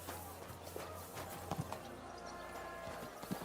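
Horse hooves clip-clop at a walking pace in Kingdom Come Deliverance 2, soft irregular thuds set against a busy ambient game background, without speech.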